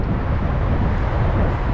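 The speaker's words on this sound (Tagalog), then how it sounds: "Lumalakas din yung hangin." Steady, heavy wind roar buffeting the microphone, a dense low rumble with no pauses across the whole short stretch.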